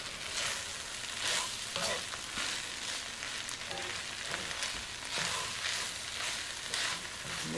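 Cold rice with pork and vegetables is stir-fried and mixed over low heat, giving a continuous close sizzle with repeated scraping strokes of a utensil.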